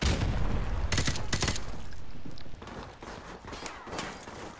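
Rapid gunfire crackles from a Call of Duty Remastered hardcore match, dense bursts filling the first half before thinning into scattered shots and footsteps.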